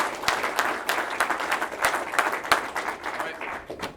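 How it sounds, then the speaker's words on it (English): Applause from an audience at an IT Leaders Indy meetup, steady clapping from a room of people that runs throughout, fairly close and lively, with scattered individual claps standing out. "one more round of applause for our speakers"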